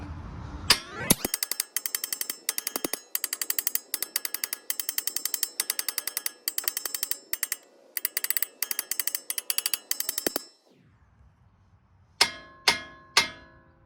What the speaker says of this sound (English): grab a hammer. And you're gonna start tapping right here and right here